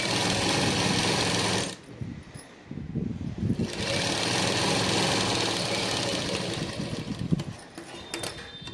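Sewing machine double-stitching a Punjabi dress seam, a steady close motor whir that stops briefly, restarts and runs on, with no talking.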